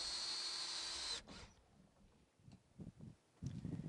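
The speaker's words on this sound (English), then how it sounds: "Care should be used while driving screws. Do not drive too far into the decking." Power drill driving screws into composite decking boards, a loud steady whirring for about a second that cuts off abruptly, followed by quieter scattered knocks and handling noise.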